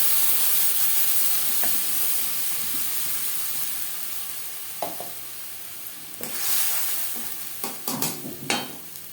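Masala with whole cumin sizzles steadily in a pan for an egg omelette curry. Stirring strokes and scrapes grow louder and more frequent toward the end.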